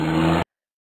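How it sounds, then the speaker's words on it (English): Car sound effect in an Adobe Flash CS6 animation, a short engine and tire-squeal burst lasting under half a second before cutting off abruptly into silence. "There's the beep as well as the sound of the car as the car moves off the screen."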